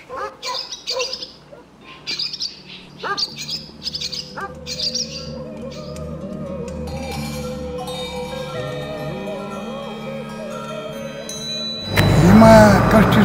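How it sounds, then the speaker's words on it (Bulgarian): Birds sing and chirp outdoors in the Western Rhodopes mountains of Bulgaria, with bright repeated calls at first, then a softer, steadier chorus under a low background murmur, ending in a sudden louder burst of noise. "Чувате ли птиците?"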